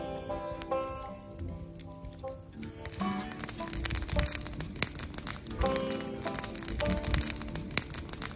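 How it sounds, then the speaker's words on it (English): Rain falls at a wilderness canoe campsite in Pittsburg, New Hampshire, pattering and dripping on nearby surfaces, faint at first, then denser and louder with scattered heavier taps. "Raining."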